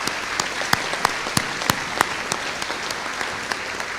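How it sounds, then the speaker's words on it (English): A high school Veterans Day audience gives a round of applause for veterans and their families, loud continuous clapping with a few sharp individual claps standing out in a regular rhythm. "I'd like one more round of applause for our veterans and their families"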